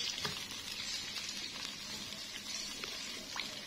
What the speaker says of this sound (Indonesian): Oke, ini udah panas, kita masukkan di sini. Kita tumis sampai benar-benar wangi.